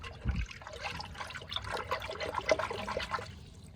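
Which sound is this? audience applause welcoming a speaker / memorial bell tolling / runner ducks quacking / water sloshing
water sloshing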